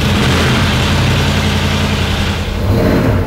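A car engine tuned for dual-fuel LPG liquid injection runs on LPG only with no petrol and throttle limiting, giving a loud, steady drone close up that holds an even idle-like note throughout.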